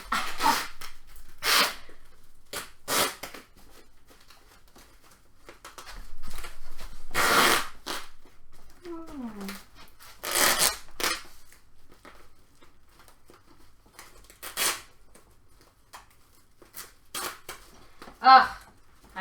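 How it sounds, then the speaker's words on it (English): Plastic wrap crinkles and tears in bursts while a cosplay costume piece is being wrapped up, the handling sounds close and intermittent, with occasional breathing and brief vocal noises between them. "I hate tearing this. Ew, pretty silver. Alright. Again, plastic wrap is the culprit."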